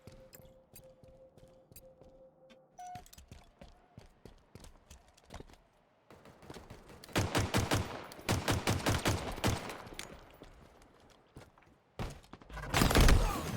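Gunfire in a Halo Infinite online match, including a sniper rifle shot: sharp isolated reports early on, then rapid bursts of automatic fire mid-clip and a loud final volley, with faint game sounds between.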